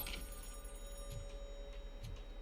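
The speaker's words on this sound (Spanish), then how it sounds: "Teléfono." A telephone rings in the game RoboCop Rogue City, heard as faint, evenly spaced ring bursts over a quiet, humming room background.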